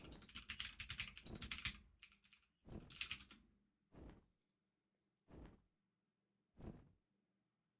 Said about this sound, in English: Unfortunately, the backup keyboard does this, but some people like the clickety clacks.